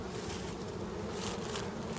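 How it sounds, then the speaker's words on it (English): A honey bee swarm clustered at the top of a box fans its wings, a dense, steady, close buzzing drone with no pauses or talk. "See all these bees up here right at the top? They're fanning their wings."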